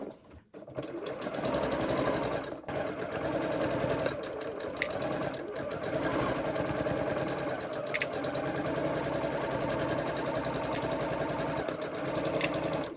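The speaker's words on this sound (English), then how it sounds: "when I get close to the end, I'm just going to do a little back stitch and then stitch forward" Sewing machine stitching on a quilt, running steadily and close by with a continuous whirring hum, pausing briefly near the start and again around the two-second mark.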